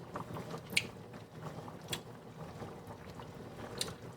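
Someone chews a mouthful of freshly made tomato pasta sauce with chilies, soft wet mastication close to the mic with a few sharper clicks and smacks.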